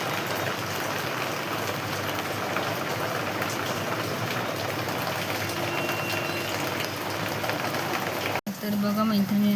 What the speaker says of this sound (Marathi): पाऊस आहे